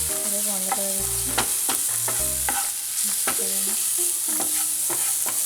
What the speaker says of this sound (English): And again mix them.